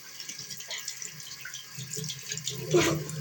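Tap water runs into a sink while a child washes at home, a steady faucet stream with a brief louder splash near the end and faint voices in the background.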